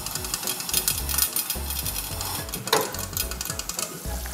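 Ghee and jimbu spice sizzle and crackle in a small pan, a busy steady frying hiss with a few sharper pops and faint clinks of a stirring utensil.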